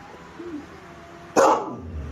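A dog in a cats-versus-dogs standoff gives a single sharp, loud bark near the end, after a quiet stretch with a faint soft vocal sound.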